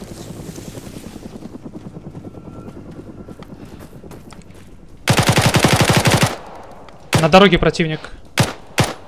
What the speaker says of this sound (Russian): Он стреляет.